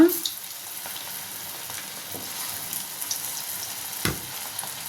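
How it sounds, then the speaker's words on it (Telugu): Chicken pakodi pieces fry in oil on a medium flame, giving a steady soft sizzle throughout with a few faint clinks and stirring sounds, and no speech. "మీడియం ఫ్లేమ్లో పెట్టుకొని ఫ్రై చేసుకోవాలి"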